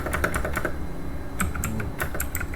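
Commands are typed on a computer keyboard in quick bursts of close, crisp keystrokes, separated by a short pause in the middle.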